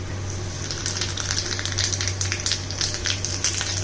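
Two dried red chillies crackle and sizzle steadily in hot oil as a tempering for hand-mashed dal, a close, continuous hiss with small spitting bursts and no talk.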